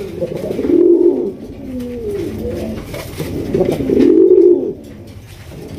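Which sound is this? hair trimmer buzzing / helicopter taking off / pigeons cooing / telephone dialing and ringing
pigeons cooing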